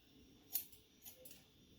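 Thinning scissors snip hair in a gentleman's haircut, giving a few faint, quick metallic clicks close by in a quiet room.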